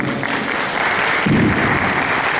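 A seated audience at a university economics lecture applauds a speaker being introduced, a loud, even wash of clapping that holds steady from start to finish before stopping abruptly.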